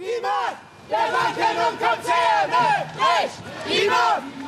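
Protesters outside Frankfurt's Trade Fair Center, venue for Euro Finance Week, shout chanted slogans in unison, a crowd's voices rising in repeated loud bursts that fill the street.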